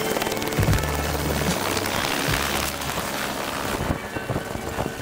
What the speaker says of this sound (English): Just fly around with the heli